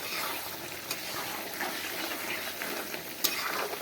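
Duck meat fries in a pan with a soft, continuous sizzle and occasional stirring scrapes and clinks, fairly quiet and close, with no voices.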